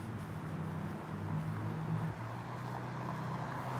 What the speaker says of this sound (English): There's another car coming up next to me right now.